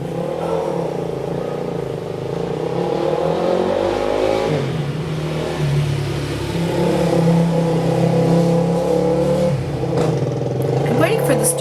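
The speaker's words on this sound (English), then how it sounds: "I'm waiting for the stupid motorcycle to be done." A motorcycle engine drones steadily throughout, revving and rising in pitch as it passes fairly close, with a voice speaking over it.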